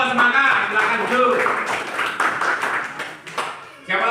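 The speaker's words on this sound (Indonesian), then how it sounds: "kasih tepuk tangan untuk kelompok semangat" A class of students claps for a group in an Indonesian school lesson, scattered uneven hand claps mixed with children's chatter and voices, fairly close and busy, fading briefly before a louder burst at the end.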